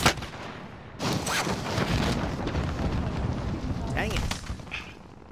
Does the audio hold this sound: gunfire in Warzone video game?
yes